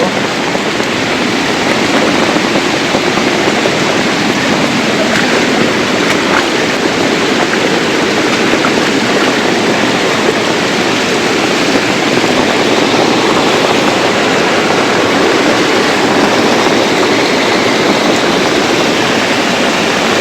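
A swollen river rushes past in a steady, loud, broadband roar of churning water with no pauses, heard close by and alone for the whole stretch.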